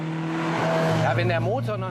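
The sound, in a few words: Matra Jet mid-engine car driving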